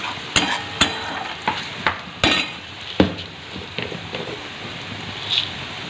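Ground cumin, coriander and chili spices stir-fry in a pan, with a soft sizzle under irregular scrapes and clinks of a utensil against the metal.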